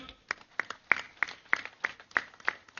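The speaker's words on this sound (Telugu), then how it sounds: "ఆ ప్రాజెక్ట్ ఒకసారి గట్టి క్లాప్స్ కొడదాం" A small audience at a meditation event claps steadily, sharp hand claps in a regular beat, close by with no voices.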